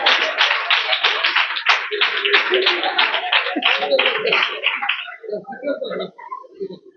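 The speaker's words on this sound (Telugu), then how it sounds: "సరే అందరూ క్లాప్స్ కొట్టండి" Children at a Sunday school prize-giving clap together in a dense, steady burst lasting about five seconds before the applause thins out into scattered voices.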